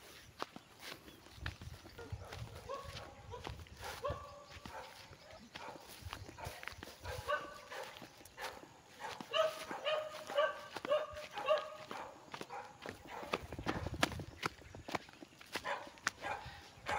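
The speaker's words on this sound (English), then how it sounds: "Oh, the dog is so noisy" A noisy farm dog barks several times in the Filipino countryside, mixed with footsteps and movement around farm animals, close and fairly busy.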